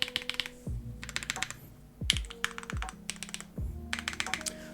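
Typing on a Vertex Intro S100 full-size keyboard, recorded close with a handheld condenser microphone, gives quick bursts of crisp key clicks with deeper thocks from the larger keys, and brief pauses between bursts.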